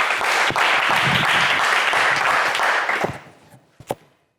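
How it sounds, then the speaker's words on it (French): A French television game show studio audience bursts into applause, dense and loud for about three seconds, then tapers off into a few scattered final claps. "On applaudit Marc, s'il vous plaît, les amis."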